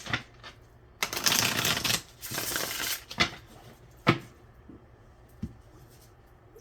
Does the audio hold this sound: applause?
no